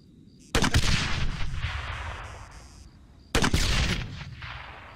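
Two heavy blasts in ARMA 3, each a sudden loud boom with a long rolling decay, the second coming about three seconds after the first.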